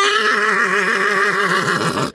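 An Ardennes draft horse at the Libramont agricultural fair gives a loud, close whinny, its wavering neigh held steadily for about two seconds and then cut off abruptly, with no talking over it.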